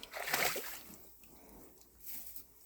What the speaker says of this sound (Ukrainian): Розуміє, що в водиці потьопатись класно.